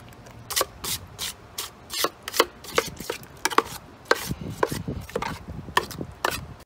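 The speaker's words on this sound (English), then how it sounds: "Using my 4-inch knife to do the mixing." A 4-inch drywall knife mixes joint compound for skim coating, making repeated close scraping and slapping strokes in an irregular rhythm, fairly loud, with no voices.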